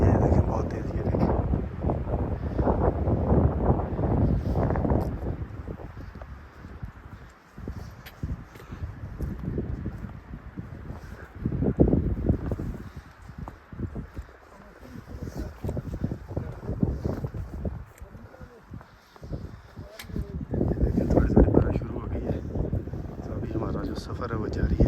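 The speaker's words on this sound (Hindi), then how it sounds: "थोड़ा सा रास्ते का हवा चल रही है। देखें बहुत तेज़" Strong wind on a mountain path, heavy gusting rumble buffeting the microphone in waves, with a person speaking over it.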